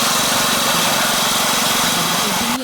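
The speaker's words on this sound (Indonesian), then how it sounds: "Setelah dibersihkan, ubi digiling menggunakan mesin." Cassava being ground by a motorised machine, a loud continuous engine drone with a steady buzzing rumble throughout that shifts briefly at the very end.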